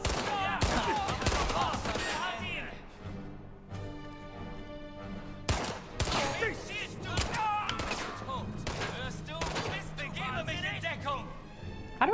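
Gunfire in Indiana Jones and the Great Circle at Gizeh: repeated loud sharp shots and impacts spread across the span, mixed with game sounds and music.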